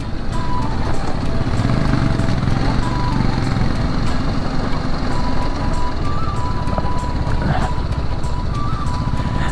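Royal Enfield Himalayan motorcycle riding through a water crossing, its steady engine drone mixed with continuous splashing and churning water, loud and close throughout.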